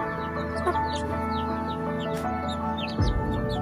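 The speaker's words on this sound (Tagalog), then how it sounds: "Ito ang mga manok na to ay mula sisiw hanggang ngayon ay tumulog sila sa umuman" Chickens raised from chicks cluck and murmur in a backyard, several birds making short overlapping clucks close by, with small chirps scattered through and a louder fluttering thump near the end.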